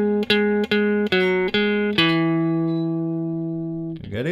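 Guitar plays the second melody of a song, four short repeated plucked notes in an even rhythm, then a final note left ringing and slowly fading, close and clear with no talking.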